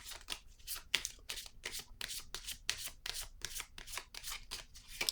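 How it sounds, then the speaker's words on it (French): Tarot cards handled and set down on a table, a rapid series of crisp papery slaps and shuffling flicks, close and fairly quiet, with no talking. "Je vais déposer une carte sur le soleil"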